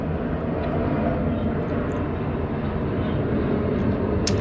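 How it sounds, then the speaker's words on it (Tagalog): An airplane passes overhead during a child's seventh birthday celebration at a home in Caloocan, a steady, fairly faint broadband roar that holds evenly for the whole few seconds with no talking. "May aeroplano sa amin."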